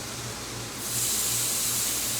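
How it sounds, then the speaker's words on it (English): Bacon sizzles on a Blackstone flat-top griddle, a loud continuous hiss that swells brighter partway through, close by with no talk. "Listen to this sizzle."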